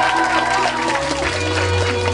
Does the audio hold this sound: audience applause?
yes